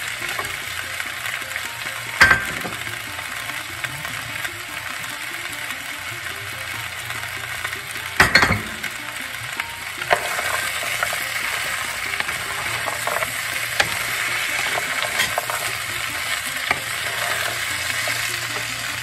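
Cucumber and other vegetables for a Bengali shukto fry and sizzle steadily in a pan, with a spatula scraping and clattering through the stir at a few sharp moments, close and fairly loud, no voices.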